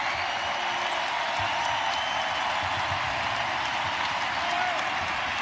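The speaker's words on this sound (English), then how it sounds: "A warm round of applause and appreciation for the crowd here at the Kohl Center" A basketball arena crowd at the Kohl Center applauds in a sustained, broad wash of clapping and crowd noise, with a commentator talking over it.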